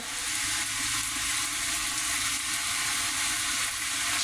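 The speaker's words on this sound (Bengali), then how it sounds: "দেখুন বৃষ্টি হচ্ছে তেমন" Steady rain falling outside a village house, a dense, even hiss of water that holds without letting up.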